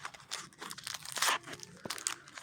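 A plastic Toybox toy packet being torn open, with crinkling and a sharp tearing rip, close and fairly quiet.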